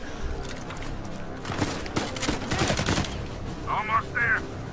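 Bursts of gunfire in the video game Uncharted 4, clustered shots and rapid volleys crackling over a continuous game soundscape, fairly loud and close, with a couple of short tonal game cues near the end.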